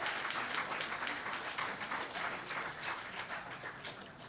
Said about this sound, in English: Please give our young people a round of applause